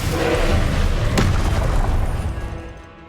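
A Confringo fire spell blast in the Hogwarts Legacy video game lands as a heavy, booming explosion with a sharp crack near the middle, then the rumble trails off and fades.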